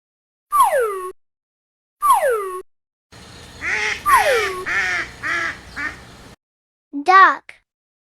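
A farm duck gives several short, harsh quacks with gaps between them, followed by a denser run of raspy calls and one final quack, all close and fairly loud.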